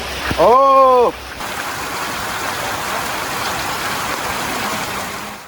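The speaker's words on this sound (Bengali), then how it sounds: "তাও বৃষ্টি পড়ছে এখন বৃষ্টি পড়ছে" Heavy rain pours steadily at a pond bank during early monsoon, a dense, even hiss filling the whole clip, with a brief voice near the start.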